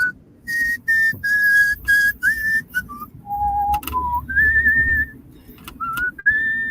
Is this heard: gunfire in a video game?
no